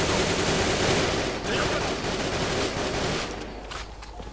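CZ 805 BREN A1 rifle fire in a video game, loud dense rapid shots packed tightly together for several seconds before thinning toward the end.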